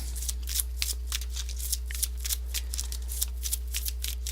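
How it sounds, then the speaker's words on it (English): Pokémon trading cards being shuffled back into a deck by hand, a close, continuous run of quick riffling card flicks at an even rhythm, with no talking. "And then shuffle the rest back into your deck."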